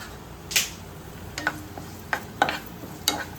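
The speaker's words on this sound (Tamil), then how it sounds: "நல்லா ஃப்ரை ஆகட்டும் வெங்காயம்." Small onions frying in coconut oil with curry leaves, a soft steady sizzle broken by several sharp clinks and scrapes of a spoon stirring against the pan.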